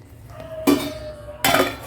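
A metal lid goes onto a pan of ragi upma with two sharp clanks about a second apart, close and fairly loud, with no voices.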